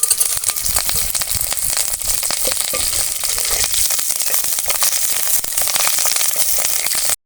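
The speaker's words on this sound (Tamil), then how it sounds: "ஒரு ஸ்பூன் கடுகு போட்டுக்கலாம் கடுகு பொரிஞ்சிச்சுங்க" Mustard seeds crackle and pop rapidly in hot oil, a dense continuous sizzle with sharp spattering bursts throughout.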